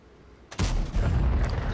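A single loud, booming tank cannon blast in World of Tanks erupts after a quiet moment, followed by a rumbling tail and scattered mechanical rattles.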